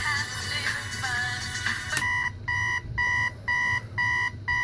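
A 1992 GE digital clock radio switches from radio sound to its alarm, which sounds as loud, evenly spaced electronic beeps repeating in a steady rhythm.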